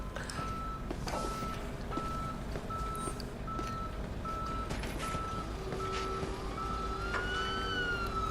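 Tow truck reversing beeps in the Police Simulator patrol game: a steady run of evenly spaced electronic beeps over a constant engine and traffic rumble, with faint speech in the background.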